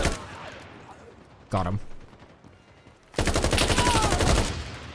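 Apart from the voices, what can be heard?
gunfire in the video game '83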